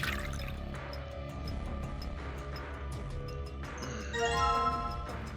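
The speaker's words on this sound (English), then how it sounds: "I have to pour out the beverage" Beverage being poured in Virtue's Last Reward, a drink-mixing scene: a soft liquid trickle with dripping, tinkling tones over a steady game ambience, brightening near the end.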